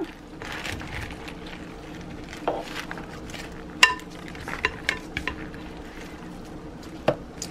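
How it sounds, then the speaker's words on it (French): A salad of artichoke hearts and pepperoni being mixed in a bowl, soft wet tossing with scattered light clinks of utensils against the dish, fairly quiet and close. "malaxer la salade. Et voilà, comme ça va me permettre à bien mélanger les ingrédients. Je mélange bien."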